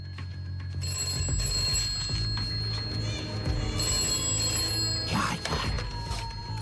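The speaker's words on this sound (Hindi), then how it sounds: "जल्दी से फोन उठाओ ना।" A telephone rings continuously with a bright, steady electronic tone over a busy background of music and clatter.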